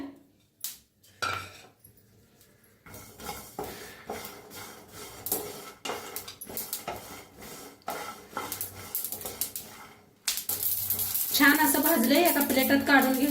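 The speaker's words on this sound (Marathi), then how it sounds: "छान असे शेंगदाणे भाजूया भाजायला लागलेले आहेत आता ह्याच्यात तिळ बी भाजून घेऊया" Peanuts and sesame seeds dry-roasting in a pan on a gas stove for stuffed brinjal masala, with soft scraping and stirring that turns into a louder, steady sizzle and rustle near the end.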